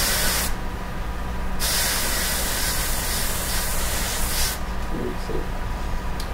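An airbrush loaded with sepia paint hisses steadily as it sprays a portrait, a continuous close airy rush with slight changes in pressure.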